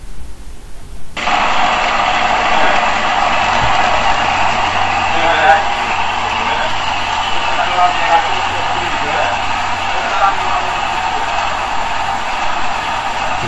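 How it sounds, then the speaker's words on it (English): A motor-driven free-energy generator running at very high speed gives a steady, loud mechanical drone with a constant whine, holding unbroken after a brief quiet start. "enables the motor to run in a very high speed to power the generator"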